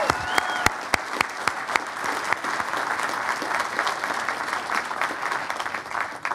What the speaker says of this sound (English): How about a round of applause for all three of our new distinguished graduates?